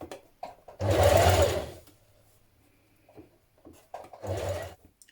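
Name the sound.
sewing machine stitching binding at back neck of dress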